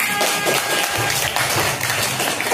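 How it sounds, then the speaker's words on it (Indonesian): A classroom of students applauds during a lesson, with dense, steady clapping filling the whole stretch at a fairly loud, even level and no voices over it. "Tepuk tangan."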